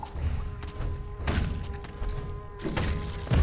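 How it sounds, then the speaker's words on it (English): Several heavy thuds and bursts from an explosion in the Hollow Knight game, booming broadband hits around one and two-thirds of the way through over a steady low rumble and faint tonal hum. "That explosion was kind of scary."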